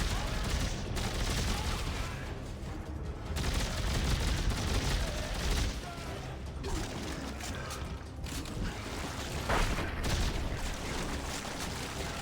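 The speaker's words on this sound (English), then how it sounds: "wow, that's a rocket launcher." Heavy weapon fire in the sci-fi horror game Dead Space 3, with a rocket launcher among rapid bursts of gunfire and booms blending into a dense, continuous roar of combat noise.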